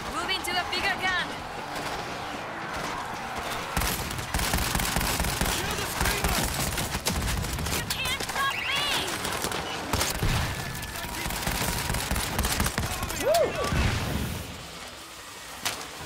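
Heavy gunfire from a big gun in the World War Z zombie shooter, sustained dense bursts running for most of the stretch at close range, mixed with game effects and voices talking over it.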